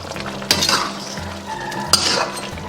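Potatoes and sweet potato starch go into a Northeastern-style iron pot stew: two distinct clunks of ingredients dropping in, each followed by a burst of bubbling and stirring over a low, steady simmer.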